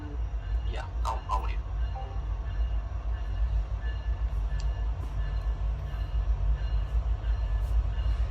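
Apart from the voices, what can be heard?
train passing outside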